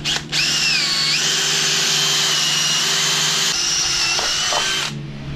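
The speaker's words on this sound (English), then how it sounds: "once your pilot hole's drilled" A power drill bores a pilot hole before tapping a new bolt thread, its motor whining loud and close with a steady tone that shifts pitch as the bit bites, then winds down at the end.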